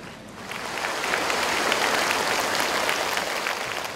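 An audience at a music and book-launch event applauds to welcome a musician, a dense wash of clapping that swells after the first half second and holds steady to the end.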